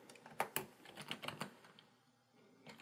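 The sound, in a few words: typing text on a computer keyboard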